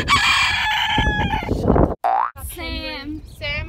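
A small chicken in Tasmania clucks and squawks in short bursts after a stretch of loud, noisy activity, with a brief pause between.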